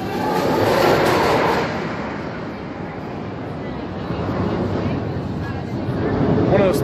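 Montezooma's Revenge coaster train at Knott's Berry Farm rolls toward the station on its final day, a loud steady broadband rumble and rattle of wheels on track, swelling and easing, with crowd voices mixed underneath.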